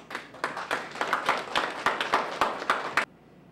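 Audience clapping at a public gathering in Haiti, a run of about a dozen distinct claps in an irregular rhythm over three seconds, fairly close and clear, then stopping abruptly into quiet.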